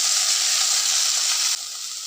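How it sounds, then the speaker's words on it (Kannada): Okra sizzles as it goes into a hot pan of oil with curry leaves for Kaayi Rasa, a close, steady hiss that eases slightly near the end. "ಬೆಂಡೆಕಾಯಿ ಹಾಕ್ತಾಯಿದ್ದೀನಿ."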